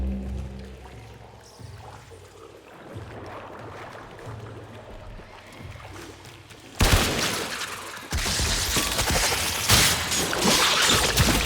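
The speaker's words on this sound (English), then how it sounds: "Destroy it with weapon fire." Sustained weapon fire aimed at an infested hive in the video game Warframe, during the Heart of Deimos quest: quiet ambience at first, then loud, dense continuous shooting that takes over for the second half.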